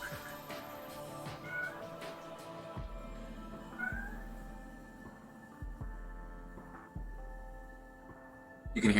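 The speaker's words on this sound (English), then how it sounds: "Encourage the meowing." A pet cat meows a few times in a quiet room, short near cries over a low steady electrical hum with light background noise.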